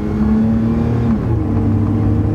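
An old, high-mileage used pickup truck pulls away under steady engine load, its low drone rising through the gears with a smooth shift change midway, loud and close throughout with no talking.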